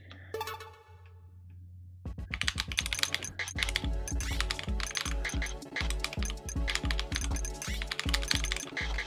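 A crunchy computer keyboard is typed on in quick, uneven bursts of sharp clacking keystrokes, close and crisp, after a brief quieter moment at the start.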